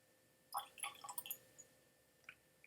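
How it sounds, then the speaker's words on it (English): A spoonful of water trickles into a glass of Jack Daniel's Single Barrel Barrel Strength Tennessee whiskey, a few quick, faint bright drips and tinkles close by in a quiet room, then a last small drop. "What I'm going to do is I'm going to add a spoon of water"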